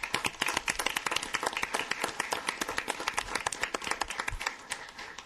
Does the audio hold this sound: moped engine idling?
no